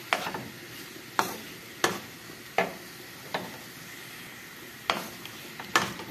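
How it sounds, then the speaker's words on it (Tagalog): A utensil stirs chicken, tomato and freshly added cucumber in a frying pan, with sharp scraping clacks every second or so over a faint, steady sizzle. "ihulog na natin yung ating cucumber. Syempre, haluin din natin."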